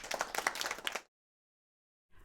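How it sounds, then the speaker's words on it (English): A classroom audience of schoolchildren bursts into brief, dense clapping for about a second, then stops abruptly and goes silent. "Stand up and take a bow. You may clap for them."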